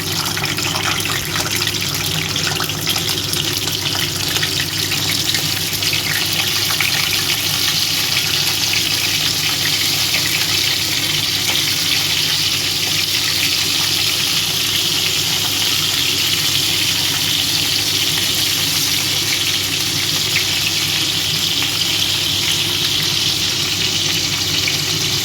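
Fish heads fry in hot oil in a home kitchen, a dense, loud, continuous crackling sizzle that holds steady and close for the whole stretch with no voices.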